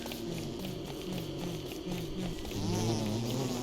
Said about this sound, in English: there are bees here